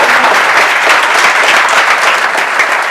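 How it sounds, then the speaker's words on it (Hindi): An audience bursts into loud, sustained applause for a student named Vipin, the dense clapping holding steady for the full three seconds. "एक बार जोरदार ताली हो जाएगी विपिन के लिए।"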